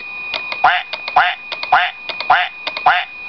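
A synthetic quacking alert from a 1995 Apple Macintosh PowerBook 190 repeats five times in a quick, evenly spaced rhythm, each crisp electronic duck call clear and close.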